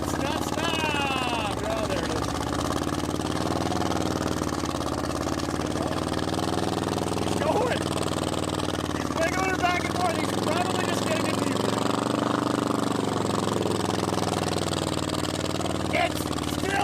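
The engine of a 1956 Pontiac 3/4 ton mud truck idles roughly and steadily, its drone continuous and loud under people talking throughout.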